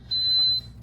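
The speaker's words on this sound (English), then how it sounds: "And then it beeps and lets you know it's on its side" A single steady high-pitched warning beep, about half a second long, from a KQPZ 1500W PTC ceramic electric space heater signalling a tip-over; close and clear over a faint low hum.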